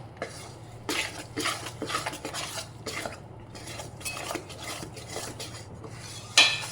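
Gram flour being stirred and dry-roasted in a pan for a roasted chickpea sweet, with a spatula scraping and tapping the metal in an irregular rhythm over a steady low hum, close and moderately loud, with a sharp clack near the end.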